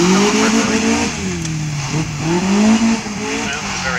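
Westfield sports car at a Northern Ireland autotest event, its engine revving and rising and falling in pitch as it accelerates and manoeuvres close by, with a brief tyre squeal and a voice talking over it.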